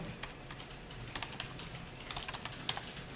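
Computer keyboard keys pressed for a Ctrl+Shift+R shortcut during coding, a quiet close series of irregular clicks and taps with small clustered bursts, no talking.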